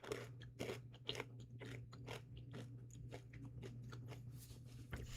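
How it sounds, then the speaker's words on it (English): Orange-flavored chips are bitten and chewed up close, dense crunching and crackling that continues steadily for several seconds, with no talking. "when you're biting into a chip, it leaves a lot of mess everywhere"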